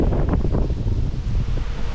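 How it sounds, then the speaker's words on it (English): Strong tropical-storm wind buffets the microphone in a roaring, gusty rush at a desert roadside charging stop, loud and continuous with no voices. "Don't know if you guys can hear it because it's so windy."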